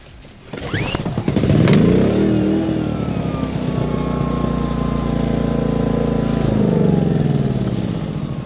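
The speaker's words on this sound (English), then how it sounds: "It's a pull start generator, super easy to start." A Cummins Onan 2200-watt pull-start portable generator starts up after a brief rattle, then settles into a loud, steady engine drone close by, with a low hum and faint shifts in pitch and no talk.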